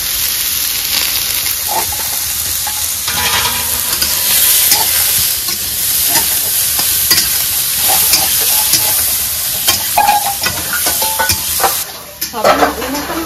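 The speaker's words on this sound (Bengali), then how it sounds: "নরম হয়ে গেছে না, এখন টাইম লাগবে না ভাজতে, জলদি জলদি ভাজা হয়ে যাবে" Kohlrabi, soybean and egg curry fries in a pan in a home kitchen, making a loud, steady sizzle with scraping and stirring clatter throughout, close up and without speech.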